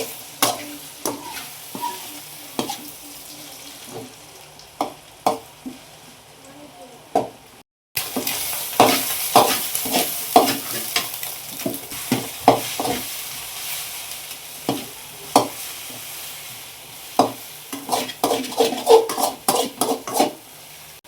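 Eggs frying in a pan for egg rice, stirred with a utensil: steady sizzle grows louder partway through, punctuated by frequent sharp scraping and tapping strokes against the pan, close and prominent, with faint background voice.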